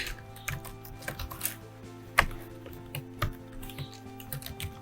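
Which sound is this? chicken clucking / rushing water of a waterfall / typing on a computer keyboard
typing on a computer keyboard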